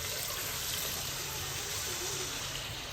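Water is poured into a pot of washed, soaked rice, making a steady, close rushing hiss that runs evenly from start to finish.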